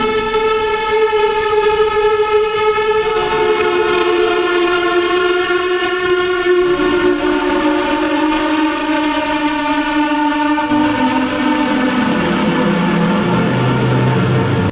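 A siren-like wail in an album track, a sustained rising and falling harmonic drone that holds steady, then bends downward, loud and alone for the whole stretch.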